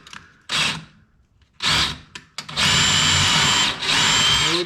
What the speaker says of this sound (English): I'm gonna try out the smaller ones because I'm drilling these holes